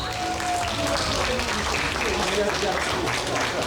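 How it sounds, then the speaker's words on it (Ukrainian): An audience claps steadily throughout at a children's dance concert, a dense continuous applause with a voice speaking over it. "Зустрічаємо оплесками."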